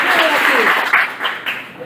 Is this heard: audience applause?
yes